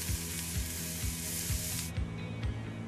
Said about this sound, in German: Zuerst fein geschnittenes Gemüse in Olivenöl anbraten.